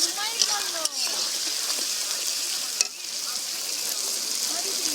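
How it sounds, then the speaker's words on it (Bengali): Onions fry in oil in a pan at a winter family picnic, a loud, constant sizzle with occasional stirring scrapes and soft clanks. "পেঁয়াজ ভেজে দিচ্ছি"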